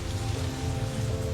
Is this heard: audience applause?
no